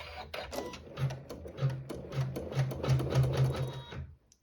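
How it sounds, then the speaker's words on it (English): A sewing machine runs in short stitching bursts and steady runs as it sews a seam joining two fabric panels for a tablet sleeve, close and clear with no talk, stopping just before the end. "put it right side down with raw edges even with fabric 1 and sew the seam with the same thread"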